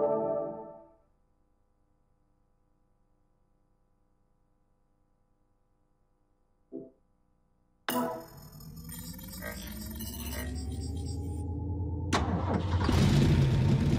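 The hydrogen-injected combustion engine of the AMG Transport Dynamics M12 Warthog in Forza 4 cranks and starts after a near-silent pause, then settles into a loud, rising mechanical run with a harsh surge near the end.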